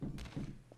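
A cell door in the video game The Killing Booths closes automatically with a brief muffled thunk, then a second softer knock, all quiet and short.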